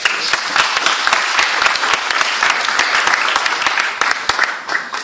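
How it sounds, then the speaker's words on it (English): A political rally audience in Bradford breaks into sustained applause, thick crowd clapping with sharp individual claps standing out, loud and steady before tapering slightly at the end. "So I think we all deserve a round of applause for that."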